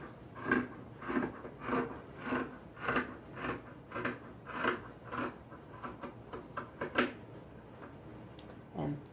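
Scissors snip through an old wool sweater in a steady series of about a dozen crisp cuts, each a short rasping crunch, close and fairly quiet, with no talking.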